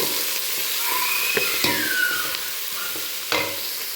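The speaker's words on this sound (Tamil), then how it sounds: "இப்போது இந்த வெங்காயத்தை நல்லா வதக்கிக்கலாம்." Chopped onions sauté in hot oil for a chicken biryani, stirred with a spoon. A steady, close sizzle runs throughout, broken by scraping sweeps and a few metallic clinks against the pan.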